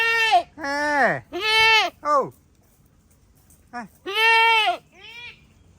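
A goat gives a run of loud, close bleats: several drawn-out wavering calls in quick succession, a pause, then two more. A person briefly exclaims once in between.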